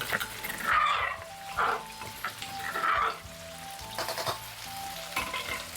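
Chili paste of pounded shallot, garlic, dried chili, coriander root and shrimp paste sizzles while being stir-fried in a hot pan, crackling close up with scraping stir strokes and a faint whimpering in the background.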